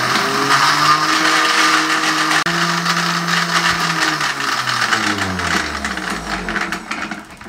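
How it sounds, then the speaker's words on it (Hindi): Blender grinding banana and milk into an ice cream base, a loud steady motor whir whose pitch shifts and slides as the mixture thickens, running continuously and close up with no talk. "इसको हम यहाँ पे ग्राइंड कर लेंगे"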